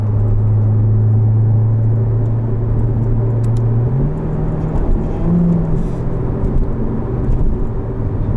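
A 2019 Chevrolet Corvette Z06 convertible with an automatic gearbox accelerates at full throttle. The engine gives a loud, continuous roar that climbs in pitch and steps up once partway through, with no one talking.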